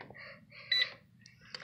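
Sharp Carousel microwave keypad used as a kitchen timer gives a few short electronic beeps, faint and irregularly spaced, with a soft low hum underneath.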